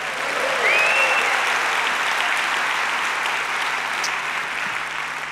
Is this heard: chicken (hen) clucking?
no